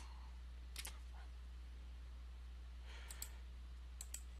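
A few sharp keyboard clicks from typing a terminal install command, sparse taps in short clusters over a low steady hum, close and quiet with no voices.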